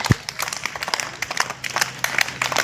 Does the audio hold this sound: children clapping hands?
yes